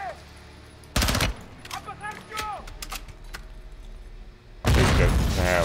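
Gunfire in the video game Modern Warfare 2, with loud sharp bursts at the start and a heavier sustained burst near the end, while someone speaks over the quieter stretch between.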